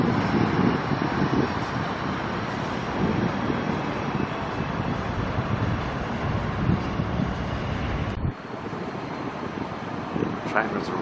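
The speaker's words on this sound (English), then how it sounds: "Train was arriving Broadbeach North on its way to Helensvale." A tram-like train rolls into Broadbeach North station on the Gold Coast, heading for Helensvale, with a steady rumble and whine of the carriages throughout and a brief dip near the end as it slows.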